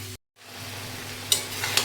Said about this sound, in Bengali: মাংসটাকে আস্তে আস্তে ভালো করে কষাবো